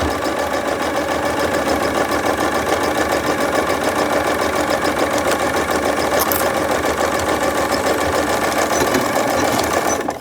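A sewing machine stitches the corners of a dog cushion cover one centimetre from the edge, running in a loud, continuous mechanical whir with a rapid needle rhythm for the full length.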